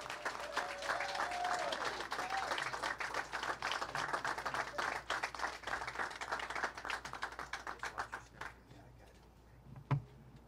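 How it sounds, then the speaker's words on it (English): An audience at a post office renaming ceremony in Harlem applauds in sustained, dense clapping that thins out and fades near the end, with a single late clap after it dies down. "Please give a good round of applause to the Honorable Charles B."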